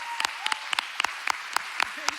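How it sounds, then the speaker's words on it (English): Applause at a Boys & Girls Club Youth of the Year event, with a steady run of separate claps, about four per second, in a hall with a faint tone behind them. "Let's give her one more round of applause."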